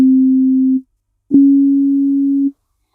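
Two pure electronic tones for ear training play one after another, a short steady tone then a longer one pitched slightly higher, separated by a brief silence, clean and loud with no other sound.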